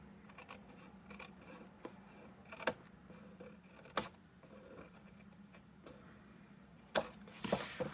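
Scissors snip overhanging paper from the edge of a card box, with a few sharp cuts spaced out over quiet, faint background handling; nobody talks.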